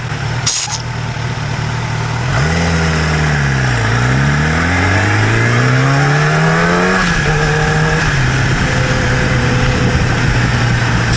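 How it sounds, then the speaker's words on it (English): A motorcycle rides through road traffic, its engine loud and close, revving up and down through the gears in sweeping rises and falls before settling to a steadier drone, with the noise of surrounding vehicles and wind underneath. "What's with all the traffic?"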